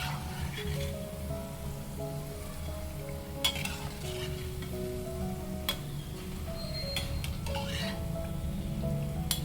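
Gram flour and curd batter frying on low flame in already hot oil, a steady close sizzle and bubbling with occasional sharp clicks and taps throughout.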